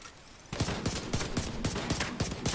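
Rapid automatic gunfire in The Division 2 erupts after a brief lull, a dense run of loud close shots stuttering in a fast irregular rhythm until the end.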